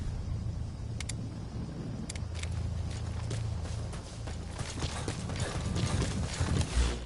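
A horse's hooves clip-clop at a steady walking pace in Metal Gear Solid V, clear sharp knocks over a low rumbling ambient bed that grow busier and louder toward the end.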